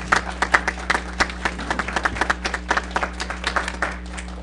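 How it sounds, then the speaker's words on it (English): A crowd at a workshop applauds steadily, many hands clapping in a dense patter over a low electrical hum, fairly distant and moderate in volume. "I'd like everybody just to give a round of applause to Commissioner Copps and his career."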